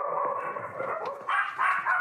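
Several small Pomeranian dogs yap at a breeder's isolated house. The high, busy barking is layered and continuous, with louder bursts near the end.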